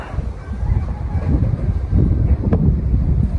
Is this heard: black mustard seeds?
no